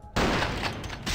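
Automatic weapon fire in the game Vampire: The Masquerade – Bloodlines, a loud continuous burst starting abruptly after a brief quiet moment and running close up to the end.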